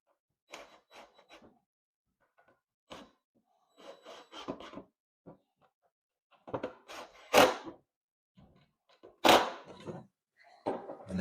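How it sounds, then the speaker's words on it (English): A full-extension, soft-close drawer in a newly built laundry-room cabinet is worked by hand, giving a close series of wooden knocks, sliding rubs and light clunks in short bursts separated by quiet gaps, with no talking. "So now drawer opens up, it's full extension, and then set this soft close on there."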